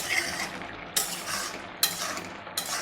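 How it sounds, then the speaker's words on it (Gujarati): Milk being stirred in a pan for Gujarati carrot halwa, a spoon scraping and swishing with soft sizzling beneath and three sharp clinks against the metal roughly a second apart. "એને આપણે સતત આ રીતના હલાવતા જ રહીશું જેથી કરીને નીચે"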